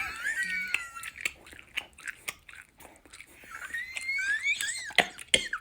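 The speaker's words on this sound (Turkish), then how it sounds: "Oğlum şu sakızı düzgün çiğne ya." Gum being chewed loudly and wetly, a steady run of sticky smacking, clicking mouth sounds close up, with faint breathy noises between.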